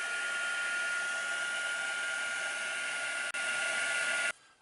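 A handheld heat tool setting acrylic paint on a mixed media canvas blows a steady, loud whirring hiss close by, with a brief dropout near the end before cutting off abruptly.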